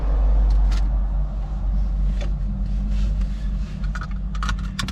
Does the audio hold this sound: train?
no